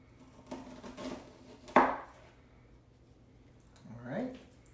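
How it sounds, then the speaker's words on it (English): A knife slices through an onion on a board while making marinara sauce, giving one sharp crisp cut in the middle and a softer scrape near the end, with faint voice murmur in the background. "I'm gonna cut most of my onion"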